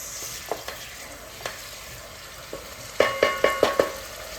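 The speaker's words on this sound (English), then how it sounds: "So whilst the onion is frying" Onions sizzle steadily in a pan for tuo zaafi stew while a utensil scrapes and clacks against it, ending in a quick run of stirring knocks.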